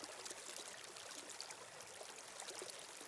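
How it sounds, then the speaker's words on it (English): A forest stream runs in a steady, soft rush of splashing and gurgling water, continuous and fairly faint, with no voices over it. "a stream running through the forest, splashing and gurgling and playing through the forest"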